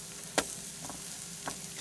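Quiet steady sizzle of food frying on a brand-new griddle, with a few faint scraping clicks over the low continuous hiss.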